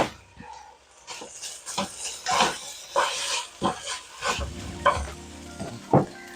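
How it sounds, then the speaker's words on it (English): Mushrooms being added to a hot pan and frying, with sizzling and repeated stirring scrapes and clatters, fairly close, no voices. "going to add the mushrooms to the pan now."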